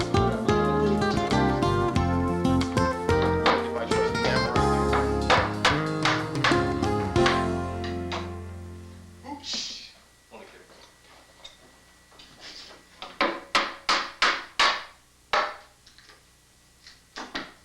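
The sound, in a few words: removing upholstery tacks with shoemaker pliers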